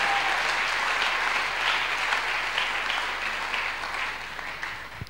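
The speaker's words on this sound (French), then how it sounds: "Alors nous acclamons pour la jeunesse." A church congregation breaks into sustained applause for the young people at a service, a dense, even wash of clapping from many hands that gradually tapers off toward the end.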